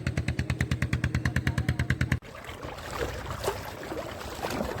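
A small fishing boat on the Sundarbans waters chugs with a fast, even rhythm for about two seconds, then stops, leaving soft water and outdoor ambience.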